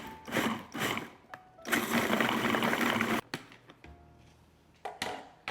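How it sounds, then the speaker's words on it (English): A food processor whirs in loud bursts as it blends a plant-based strawberry cheesecake bar crust mixture, with a long sustained run in the middle and shorter pulses before and after. "we're just gonna mix this up until the mixture starts all clumping together"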